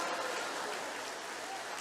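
A church congregation claps together during a Feast of Tabernacles worship service, a dense, steady wash of applause that fills the room for the full stretch.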